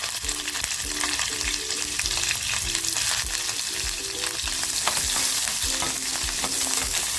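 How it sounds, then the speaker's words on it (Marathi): Onion frying in hot oil in a kadai for a pomfret fish curry, a dense steady sizzle with rhythmic spoon scrapes and clinks across the whole stretch, close and loud, with a faint tonal hum beneath and no speech. "तेल बघा आपलं छान तापलं ना की कांदा टाकून घेतले अगोदर"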